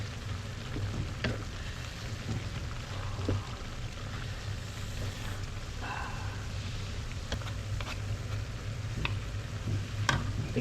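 Laing, a Bicolano dish, being stirred in a pan, a soft continuous scraping and bubbling simmer with occasional light clinks and scrapes, close and fairly quiet, without speech.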